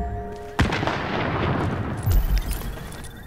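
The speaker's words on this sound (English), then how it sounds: "I'm sniping with a light machine gun." Light machine gun fire in The Division's Dark Zone, a sharp close blast followed by a rumbling tail and a second heavy burst, loud and booming with no talk over it.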